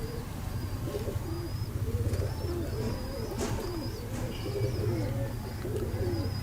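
Pigeons, including a female and a teddy pigeon, coo in low, soft, repeated rolling calls throughout, with faint higher chirps over a steady background hum and no talking.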